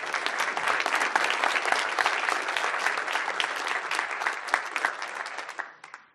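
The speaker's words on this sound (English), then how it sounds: "One more round of applause for those individuals." An audience in a hall applauds with dense, steady clapping that holds at an even level for several seconds and then fades out at the end, with no talk over it.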